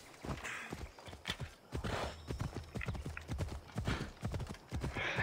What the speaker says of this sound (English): Let me bring up my horse.